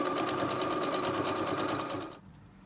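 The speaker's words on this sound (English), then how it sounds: "I'll lap one end over the other to sew my two pieces of elastic together." Sewing machine stitching overlapped ends of elastic together, a rapid, even mechanical whirring at close range that runs steadily for about two seconds and then stops.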